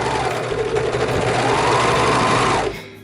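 A sewing machine stitches a hoodie seam, a loud, steady, fast mechanical whir running continuously before stopping abruptly near the end, with no talk.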